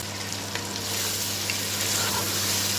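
Potatoes for aloo matar keema sizzle in a hot pan, a continuous crackling fry with occasional stirring scrapes, close and moderately loud with a faint steady hum underneath and no talking.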